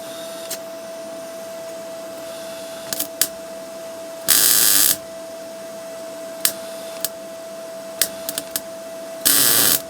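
An R-Tech MIG181 digital MIG welder laying weld onto a patch over rusty metal, giving two short bursts of harsh crackling arc, with scattered clicks and a constant faint electrical hum in between.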